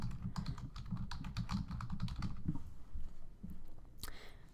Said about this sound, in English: And then you would type in University of Southern California.